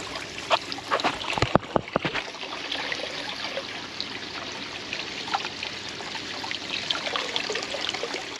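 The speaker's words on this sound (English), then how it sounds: "That the sound of water I just absolutely love." Water falling and trickling steadily into a 4.5-metre garden pond, a continuous close splashing babble with a few brief knocks near the start.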